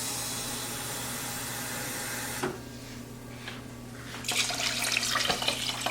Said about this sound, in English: we're going to fill the rest of this up with water to get our 4 cups